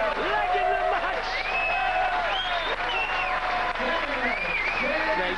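A packed arena crowd at the 2002 World Darts Championship roars and cheers continuously with scattered applause and whoops, with a commentator's voice over the dense crowd noise.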